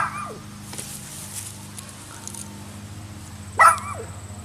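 A virtual dog in the game Dogz 9 barks and yips a few times, with a short bark near the start and a louder, sharper one near the end over a faint hum of background game sound.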